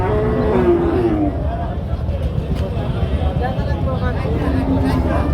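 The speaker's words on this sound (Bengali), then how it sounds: "ফ্রিজিয়ান জাতের অনেক বড় গরু।" Large Friesian cows low with deep, drawn-out moos at a busy border-area cattle market in Jessore, over a steady hubbub of crowd noise.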